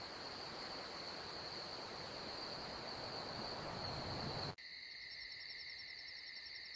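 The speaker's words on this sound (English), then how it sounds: "I can hear the crickets outside." Crickets chirp in a steady, continuous trill outside a tent at night in the woods, fairly close and even, with a soft hiss of night air beneath; partway through the sound abruptly shifts to a cleaner, layered chirping.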